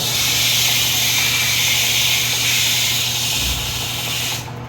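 Steady, hissing abrasive rasp of sandpaper on a pool cue handle close up, continuous and fairly loud, fading abruptly at the end with no talking.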